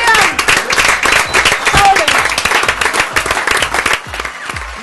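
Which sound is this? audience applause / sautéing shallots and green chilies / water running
audience applause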